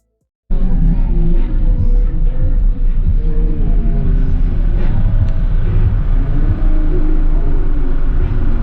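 A loud blow-through car audio system pounds out deep, heavy bass that fills the clip continuously after a brief silent start, with a dense low-end rumble throughout.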